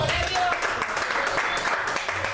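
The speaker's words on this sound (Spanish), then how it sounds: "Denme un aplauso" A crowd claps and cheers loudly and steadily, filling the space with continuous applause from start to finish.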